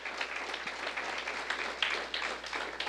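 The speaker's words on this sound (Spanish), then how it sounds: "Le brindamos un fuerte aplauso al Señor en esta mañana" A church congregation at a Sunday morning service applauds in a brief burst of steady, moderately loud clapping spread across the room.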